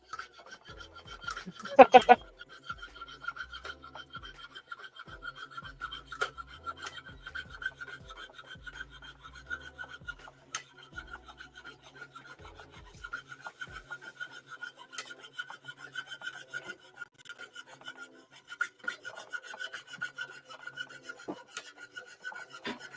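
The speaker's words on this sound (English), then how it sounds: "It's very meditative, the sound of that saw." A lapidary saw cuts into opal with a quiet, steady rasping grind, soft and continuous with faint ticks and a louder scrape near the start.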